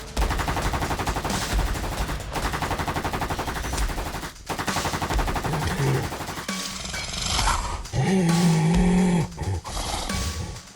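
Loud rapid bursts of gunfire crackle over a dense, busy soundtrack, with a heavier sustained blast near the end.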